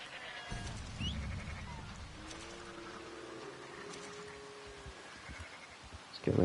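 Goats bleat in a wavering call from a farm pen in Red Dead Redemption 2, under outdoor ambience with a few thuds and a sudden loud burst of noise at the end.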